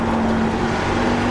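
NASCAR Xfinity stock car engines in the iRacing sim at Iowa Speedway, a loud, dense, steady roar of several cars running together at full throttle, with no talk over it.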